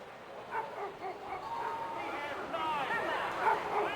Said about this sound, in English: The beautiful sounds of dogs barking.